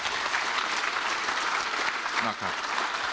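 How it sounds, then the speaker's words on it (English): An audience at an entrepreneurial fair claps steadily for the whole stretch. The applause is dense and even, with faint voices underneath. "Could we just give Mr. Yoshida a round of applause, please?"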